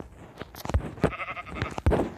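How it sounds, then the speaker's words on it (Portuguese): Sheep bleating in the Minecraft video game, several short bleats in a quick series over about two seconds, fairly close and clear with no talk over them. "Ovelha, vai pra lá. Não, ovelha."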